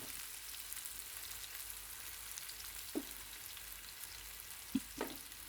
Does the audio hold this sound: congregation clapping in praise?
no